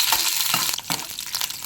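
Fenugreek seeds and green chillies fry in 4-5 spoons of hot oil for a raw mango, coconut and yellow gram chutney. A steady, close sizzle runs throughout, with a few stirring scrapes and no voices.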